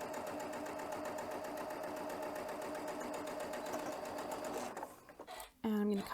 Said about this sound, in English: now on this side, we'll sew that 1/4 inch seam all the way down.